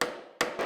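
A hammer taps a wooden dovetail marker against a scribe line on woodwork, giving three sharp close strikes: one at the start, another partway through, and a final one shortly after, each dying away quickly.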